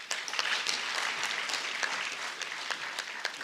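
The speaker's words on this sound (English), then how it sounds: "I want us to give a round of applause" A crowd at a SADTU Limpopo union provincial general council applauding, dense continuous clapping with scattered sharper claps, fairly close and steady for a few seconds.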